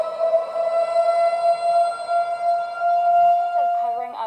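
A tornado drill warning siren sounds during severe weather preparedness week, a loud, sustained steady wail that holds its pitch for several seconds before wavering and dropping near the end, heard alone.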